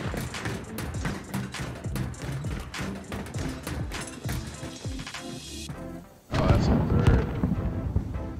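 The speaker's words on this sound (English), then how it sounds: "I hear shooting. I hear explosions." Gunfire and explosions in the video game Call of Duty: Warzone, a dense run of clattering shots and thumps followed by a brief lull and then a heavy, sustained rumbling blast.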